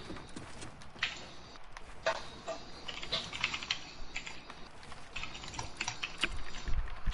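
Computer keyboard keys clatter in quick irregular bursts during a Fortnite match, close and clear with a faint game background and no talking.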